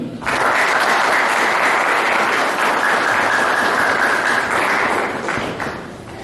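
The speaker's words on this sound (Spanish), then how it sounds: "recibamos con un fuerte aplauso al doctor Alberto Borea Odría" Strong applause from a conference audience welcoming a speaker to a lecture on constitutional reform, a dense continuous roar of many hands, loud and even, fading slightly at the end.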